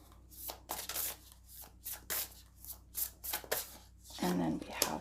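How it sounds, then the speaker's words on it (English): A deck of tarot cards is shuffled by hand in repeated soft riffling bursts with short pauses between, close and quiet, with a voice speaking near the end. "We are going to be shuffling the tarot in each pile."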